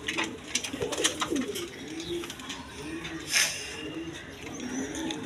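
Red Rajgolla pigeons, a healthy pair, coo in repeated soft throaty phrases close by, with light rustling and faint background noise between the calls.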